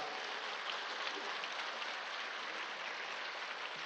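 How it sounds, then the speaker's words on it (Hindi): Hall audience at the Swarved Mandir inauguration applauds in honour of the Prime Minister, a steady, dense patter of clapping heard faintly from a distance without any break. "माननीय प्रधानमंत्री जी के सम्मान में पुनः तालियों की गड़गड़ाहट के साथ"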